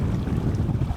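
Wind blowing over a sailboat under way at sea at dawn, a loud, steady low rush with constant buffeting and no voices.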